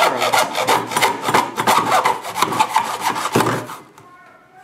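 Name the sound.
hand sawing a screen frame in a miter box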